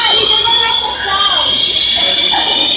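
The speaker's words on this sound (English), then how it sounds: "these fire alarms are so fucking loud" Fire alarms going off inside the Holyoke Mall in Holyoke, Massachusetts, a loud continuous high electronic tone with pulsing buzzes, while people talk nearby.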